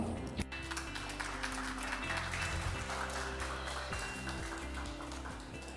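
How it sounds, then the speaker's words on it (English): Faint audience applause welcoming a speaker at a Web3 conference lounge, soft scattered clapping heard under a steady hum and sustained background tones. "Please welcome him with a big round of applause."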